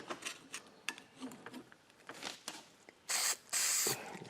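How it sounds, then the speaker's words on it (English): Two short bursts of silicone aerosol spray hissing close by onto an LS cylinder head for molding, following faint rustling and clicking handling sounds. "Silicone? Yeah, silicone spray."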